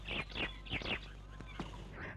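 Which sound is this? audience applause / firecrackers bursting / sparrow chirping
sparrow chirping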